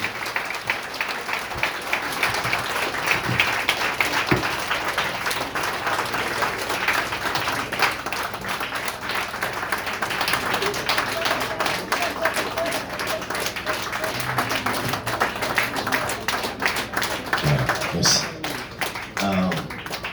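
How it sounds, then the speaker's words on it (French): A church congregation claps steadily and continuously, a dense patter of many hands that fills the room without pause, with scattered murmurs beneath. "Continuez à applaudir, continuez à applaudir."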